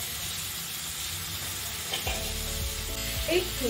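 Green beans being stirred into a thick gravy in a pan, a soft continuous sizzle with a louder scrape and clatter of the spoon partway through, close, with no voices.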